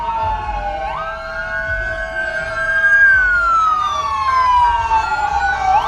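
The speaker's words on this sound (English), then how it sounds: "I believe they are just responding with this ambulance." An ambulance siren wails loud and near during a street protest march in Louisville, one long rising and falling tone sweeping slowly over low traffic rumble, with no talk heard.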